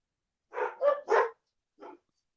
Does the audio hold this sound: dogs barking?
yes